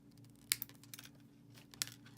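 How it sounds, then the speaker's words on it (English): Thin jewelry wire is snipped off while making handmade wire-wrap earrings, heard as two faint, sharp, close clicks spaced over a second apart in a quiet room. "So we're going to just snip this off."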